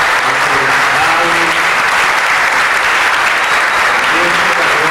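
Loud, sustained applause from a church congregation honoring God during a children's cantata, dense clapping filling the whole stretch with faint voices and cheers mixed underneath.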